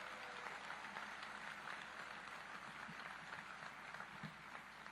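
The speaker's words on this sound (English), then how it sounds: "Let's give them a big round of applause." An audience applauds steadily at an announcement event in Portland, Oregon, where a WNBA team is revealed; the clapping forms a continuous, even roar, fairly quiet and distant throughout.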